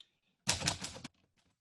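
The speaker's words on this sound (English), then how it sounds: "that I typed on my 100-year-old Smith & Corona, so actually Corona before Smith, typewriter" A 100-year-old Smith & Corona typewriter gives a brief burst of rapid key strikes, close and fairly loud, followed by a few faint clicks and then quiet.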